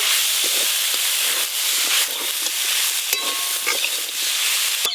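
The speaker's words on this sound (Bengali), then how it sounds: "ভেজে রাখা উচ্ছে, বড়ি ভালো করে মিশিয়ে নেব।" Fried bitter gourd and lentil dumplings are stirred together in a hot pan, making a loud, steady frying hiss that fills the whole stretch, with faint scrapes and small clicks from the spoon now and then.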